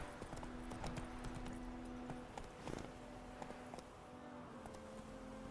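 Roach the horse galloping in The Witcher 3, a quick rhythmic run of hoofbeats on ground, steady and moderately close, with faint game ambience beneath.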